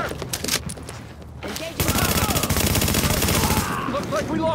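Gunfire erupts in Tom Clancy's The Division, with a dense, rapid automatic fusillade rattling loud and close for several seconds, following a few scattered earlier shots.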